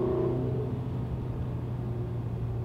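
Ferrari California T engine with manually selected gears, a close steady rumble that eases slightly after an opening rev, without talk.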